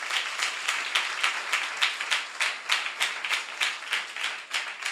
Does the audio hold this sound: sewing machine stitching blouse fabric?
no